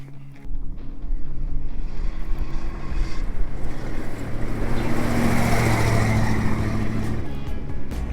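Radcharger vehicle starting off on a drive, with a steady engine roar rising over a rocky outdoor track. A sharp onset is followed by continuous loud engine noise close to the listener.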